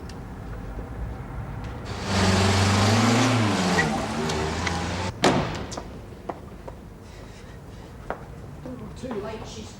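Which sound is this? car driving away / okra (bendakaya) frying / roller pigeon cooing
car driving away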